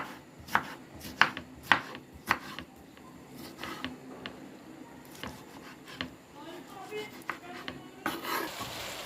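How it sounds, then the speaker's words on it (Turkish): A knife chops tomatoes on a cutting board in a few crisp, spaced strikes, then softer scraping and kitchen clatter follow, close by and fairly quiet. "Domateslerimizi doğrayalım."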